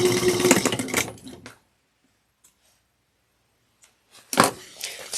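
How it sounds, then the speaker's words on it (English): Sewing machine stitching darts at a three-eighths-inch seam on a fold-over cross-body bag, a short burst of rattling stitches that stops, a near-silent pause with faint clicks, then a brief restart. "we are going to sew these darts at 3/8 of an inch."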